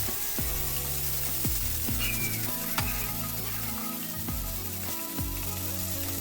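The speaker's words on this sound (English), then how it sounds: "Add boiled pasta and toast it very well" Boiled pasta toasts in a pan with garlic, giving a moderate, steady sizzle under rhythmic background music, with occasional sharp ticks from the pan.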